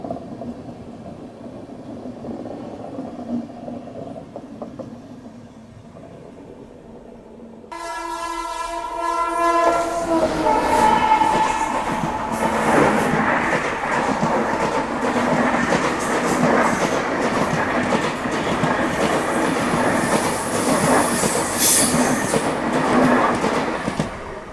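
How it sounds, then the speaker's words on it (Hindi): Trains crossing and overtaking one another at an Indian railway station: a low rolling rumble, then a loud, sustained horn blast with steady wheel clatter that carries on close by, with no talk. "तो ट्रेनें क्रॉस हो रही हैं, ओवरटेक कर रही हैं और हमारी ट्रेन पिछले 1 घंटों से अभी भी स्टेशन पे खड़ी है।"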